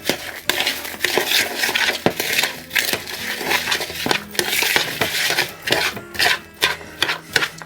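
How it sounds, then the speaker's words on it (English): French onion sausage roll filling being mixed by hand in a bowl, with steady wet squelching, crunching and rubbing sounds in uneven strokes, close and fairly loud with no talking. "Now at this stage you want to get all that mixed in together."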